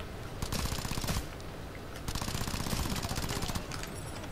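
Fully automatic AK rifle fire in the video game Ghost Recon Future Soldier. Two sustained rattling bursts with a short pause between them sit at moderate level under faint game background.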